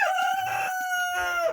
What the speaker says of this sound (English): just thought you might like to see a little bit of our roosters